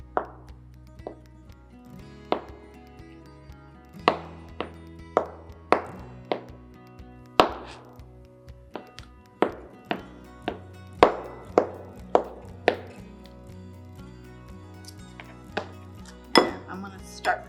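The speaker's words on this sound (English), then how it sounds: "So I'm just going to chop up some eggs here." A knife chops peeled hard-boiled eggs on a cutting board in a steady run of sharp, close taps, sometimes in quick bursts, against a faint background hum.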